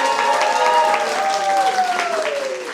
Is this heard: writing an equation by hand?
no